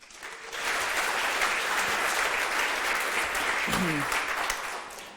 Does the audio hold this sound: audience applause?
yes